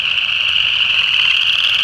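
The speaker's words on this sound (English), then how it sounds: "It's always such a treat to see frogs call." A frog calls in late winter with a steady, high, buzzing trill that runs unbroken and loud for the whole stretch, close by and with no voices over it.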